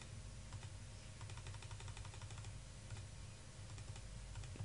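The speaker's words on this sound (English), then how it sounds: "Clickety click click click click." Rapid, steady clicking of keys and mouse during a Minecraft game, a dense, continuous patter of close taps over a constant background hum.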